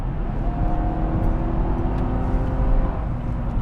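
A car rushes up and passes on the road while heard from inside a Camaro overtaking a truck, a steady loud engine and tire roar with a rising whine and faint tonal hum, no voices.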